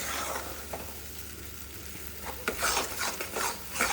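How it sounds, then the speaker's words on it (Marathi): Ground masala paste of coconut, peanuts, curry leaves, coriander and onion sautés in oil over low heat, giving a soft steady sizzle with a few spoon stirs and scrapes toward the end. "त्याला तेल सुटेपर्यंत परतून द्यायचं कमी गॅसवरती."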